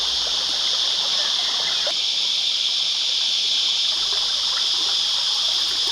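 The Abercrombie River flows over rocks in an Australian national park, a steady close rushing and trickling of water with a bright hissing texture, continuous and even throughout with no voices.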